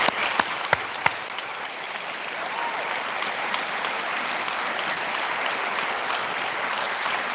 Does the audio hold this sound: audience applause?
yes